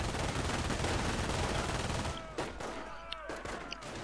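Video game machine gun fire near an enemy base, a dense continuous rattle for about two seconds, then sparser scattered shots and faint clicks, fairly quiet overall.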